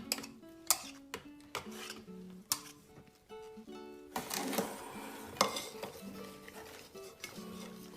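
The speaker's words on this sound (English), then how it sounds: "Mix slowly until no lumps." Waffle batter with flour is mixed in a bowl, with repeated ringing clinks and taps of a utensil against the bowl in an uneven rhythm and a brief run of rougher scraping, close and fairly quiet, with no speech.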